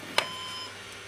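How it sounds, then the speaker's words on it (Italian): An HP computer motherboard sounds a single short, sharp electronic beep near the start, followed by a faint steady hum. "3 beep e luce rossa tra l'altro"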